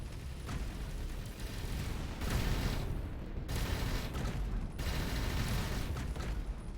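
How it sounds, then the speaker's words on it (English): Ship cannons firing in the space game Avorion, heavy rumbling volleys that come in repeated booming bursts separated by short lulls, loud and dense. "I can hear those cannons going"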